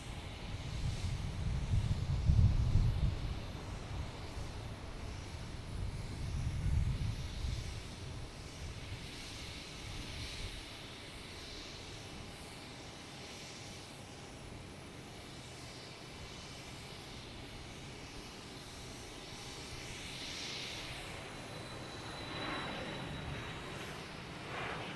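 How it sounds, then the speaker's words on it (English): A JetBlue Airbus A321neo arriving at Boston Logan from Madrid, its low engine rumble swelling nearby early on and then fading into a quieter distant hum mixed with wind noise. "JetBlue coming in from Madrid, A321neo"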